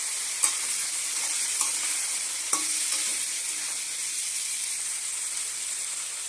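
Drumstick stalks and potato frying in oil tempered with five-spice, dry red chilli and bay leaf: a steady bright sizzle throughout, with a few sharp clinks of a spatula stirring the pan, no talking.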